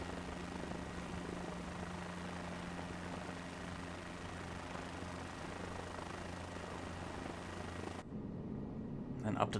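A steady aircraft engine drone plays in Microsoft Flight Simulator 2024 during a climb, droning evenly at moderate volume before cutting off abruptly near the end, with a person talking over it.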